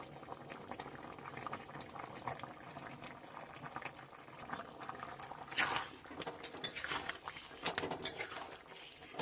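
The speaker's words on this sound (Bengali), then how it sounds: "ঝোলটা আমাদের ফুটে উঠেছে" Sukto, a Bengali vegetable broth, bubbles in a pot on the stove, a quiet, close simmer of irregular pops and gurgles that grows busier and louder partway through.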